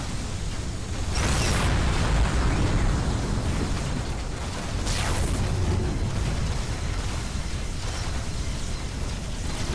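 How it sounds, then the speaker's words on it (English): Heavy bolter and chain gun impacts in a Warhammer 40k mod mech battle, a dense, continuous roar of explosions and booms with repeated surges. "You can just hear all the impacts from those heavy bolters and chain guns."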